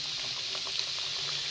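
Flour-coated chicken wings sizzle steadily in hot oil over high heat, a dense, even crackle with no speech.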